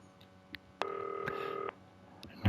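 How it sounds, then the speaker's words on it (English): A telephone rings in the video game Not For Broadcast: a single steady, buzzing electronic ring tone of just under a second, clear over a quiet background, followed by a brief click. "there's a phone ringing."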